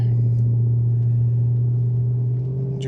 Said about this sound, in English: Just driving down a very bumpy road.